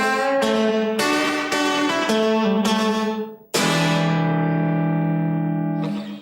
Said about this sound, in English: And the 5 chord sounds like this.